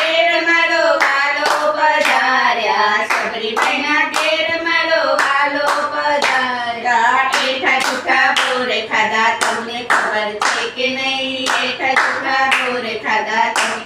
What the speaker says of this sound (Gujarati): હાથે તાળી પાડો